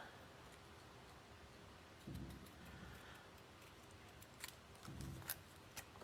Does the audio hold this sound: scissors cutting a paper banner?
yes